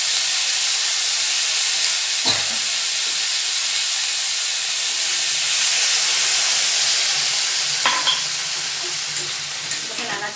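Water poured into a pan of frying pumpkin greens sets off a loud, sustained sizzle and steamy hiss, broken by a couple of sharp clinks as the greens are stirred.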